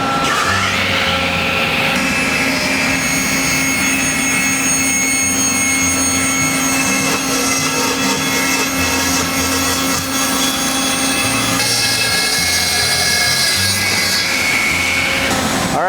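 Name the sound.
saw ripping a live edge wood board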